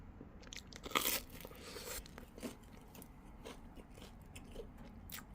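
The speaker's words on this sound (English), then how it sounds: "Crunch." Close, crisp crunches from biting into a Costco Motor City Pizza Co. Ultimate Meat Detroit-style deep dish pizza, a sharp first bite followed by softer chewing crackles.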